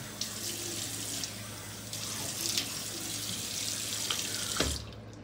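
Steady rush of water from a bathroom sink tap while a safety razor is rinsed, with faint clinks and splashes over a constant flow.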